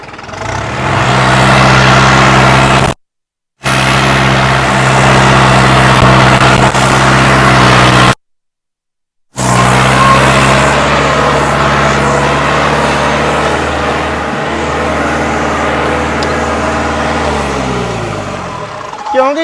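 A modified New Holland 5630 4x4 tractor diesel engine with a turbo and tuned diesel pump runs steadily up close, with low throbbing harmonics and slight revving shifts, cut by two brief silent gaps.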